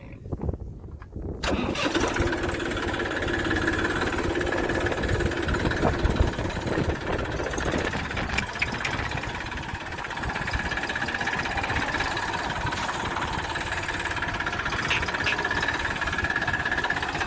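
A tractor engine on a farm chugs and idles steadily after starting up, a continuous close mechanical rumble with no talking.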